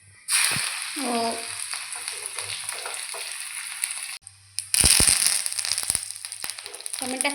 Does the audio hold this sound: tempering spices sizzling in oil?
yes